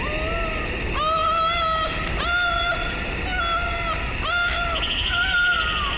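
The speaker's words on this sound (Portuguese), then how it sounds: "onde podemos escutar sons estranhos durante a noite, bem parecidos com sons de gritos" Eerie scream-like cries at night in the Tall Trees forest of Red Dead Redemption 2: about five wavering, drawn-out tonal wails in a steady rhythm over a constant low ambient background.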